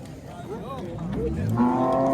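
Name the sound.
calf at a cattle market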